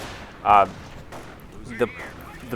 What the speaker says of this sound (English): sniper just firing away here